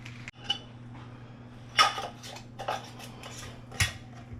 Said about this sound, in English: I'm just rubbing vinegar, cleaning the lids, cleaning everything